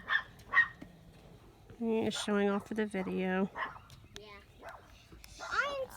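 A neighbor's dog barks and yips in quick bursts, close and loud, while people talk around it.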